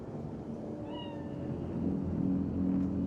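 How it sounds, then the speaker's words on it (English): In Cyberpunk 2077, a cat gives one short, faint meow rising and falling over a low, steady background hum of the game's ambience, with no speech. "Chill. It's just a cat."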